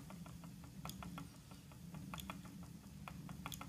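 Yarn plying on a spinning wheel produces a quiet, rapid run of mechanical ratcheting clicks and ticks from the turning wheel and spindle, repeating unevenly over a low hum.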